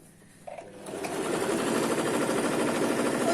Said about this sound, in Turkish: Ve şimdi cebimin üstten çizdiğim yuvarlak yerin dikişini yapıyorum.